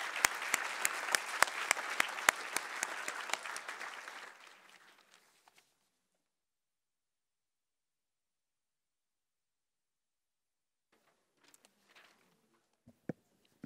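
Audience applause for the panelists at the close of a panel discussion at a forum kick-off event, a loud sustained clapping crowd for about four seconds that fades out, followed by near silence with a few faint knocks.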